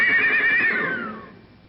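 A horse whinnies loudly and close as a sound effect at a stable in an old-time radio comedy, one long quavering neigh that trails off and fades.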